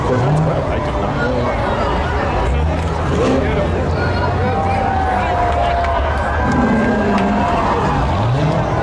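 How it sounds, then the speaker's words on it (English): Four Corvettes rolling past in a St. Patrick's Day parade in New London, engines rumbling close by under crowd chatter and an announcer's voice. "Here comes four Corvettes only"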